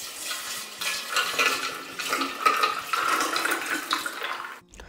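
Mixed juice poured into a mocktail glass for an iftar party, a steady splashing liquid stream running for about five seconds before cutting off abruptly at the end.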